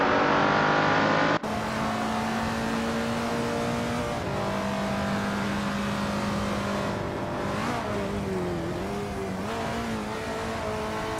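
Race cars in a racing video game accelerating and overtaking, engines revving loudly with rising and falling pitch as cars pass and shift, continuous and close with no talk.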